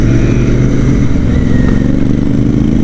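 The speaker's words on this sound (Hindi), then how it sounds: "एग्जॉस्ट के साथ आज मैंने अपनी बाइक सुनी है पीछे से पहली बार" A loud Royal Enfield Interceptor 650 motorcycle engine rumbles and revs close by, a throaty, continuous exhaust drone with slight rises in pitch.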